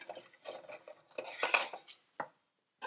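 Kitchen utensils, including a whisk and pans, are handled with metallic clinks, scrapes and rattles in short close bursts, followed by a few isolated taps.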